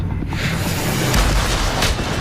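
A Civil War reenactment cannon fires with a heavy, rumbling boom, loud and close, and it fills the whole moment with broad low-end noise.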